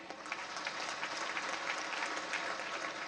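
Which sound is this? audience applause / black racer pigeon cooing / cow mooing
audience applause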